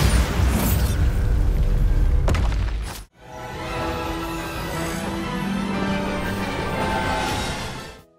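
A Bombarda spell blast in the video game Hogwarts Legacy booms loudly for about three seconds, cuts off abruptly, then gives way to a quieter, steady in-game rumble and ambience.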